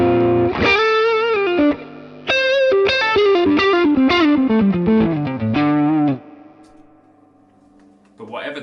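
A Stratocaster electric guitar played through a Vox amp rings out close and loud in a run of bright, glassy chords and picked notes for about six seconds, then decays, with a short strum returning at the very end.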